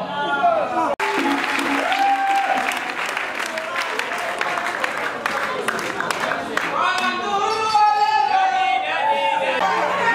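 An audience applauds the artists at a live stage show, sustained crowd clapping mixed with cheering, whistles and shouting voices, loud and continuous throughout with talk and calls rising over it.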